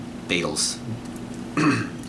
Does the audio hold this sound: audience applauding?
no